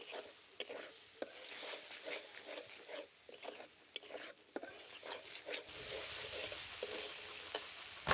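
Mustard paste masala fries in a pan while a spoon stirs it, giving soft sizzling and repeated scraping strokes, quiet and close, turning to a steadier sizzle toward the end.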